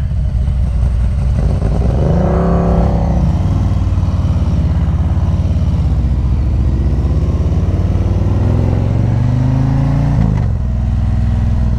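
A 2022 Ducati Streetfighter V4S rides along back roads, its engine loud and close, with the rising and falling pitch of gear changes and revs over steady wind rumble.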